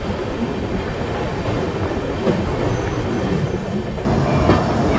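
The Sealdah–Jalpaiguri Road Humsafar Express rolls over the Nasipur bridge across the Bhagirathi river, a loud, continuous rumble of wheels and rattling carriages heard from on board, growing slightly heavier near the end.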